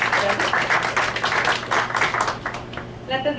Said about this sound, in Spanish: Por favor, un aplauso para la señora.